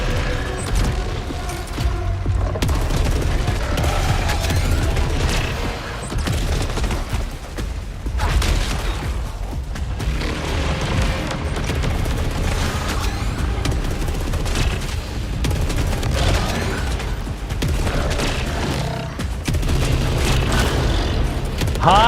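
Rapid weapon fire in the Saros video game pours out in dense, nearly unbroken bursts for over twenty seconds, loud and close, with heavy booming impacts mixed into the barrage.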